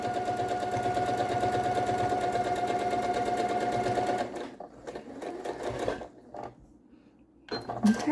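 A sewing machine stitches quilt pieces in a continuous fast whirring run for about four seconds, then stops; brief handling noises follow and a short second burst of stitching comes near the end.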